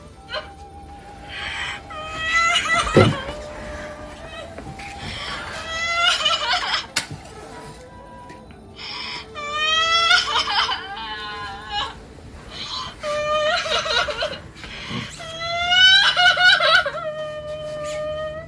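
Repeated high, wavering sobs come in bursts, with short gasping pauses in between and a faint steady hum in the background.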